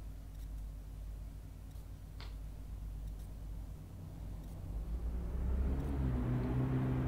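Mercedes-Benz S600 W140 engine in City Car Driving, a low steady rumble while cruising gently through town, rising in loudness as the car picks up speed toward the end.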